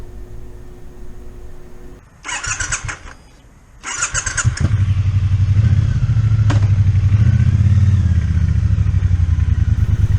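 The engine of a Triumph Bonneville T120 Black motorcycle cranks in two short bursts, then catches and settles into a loud, close, steady idle with a throbbing low rumble.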